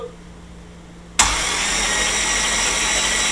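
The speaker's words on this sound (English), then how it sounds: "Engine cranks, sounds good." An LS1 V8 engine, turned by its starter after pre-lubing with a pressure tank, catches abruptly after a quiet hum. It then runs in a loud, steady, close roar to the end.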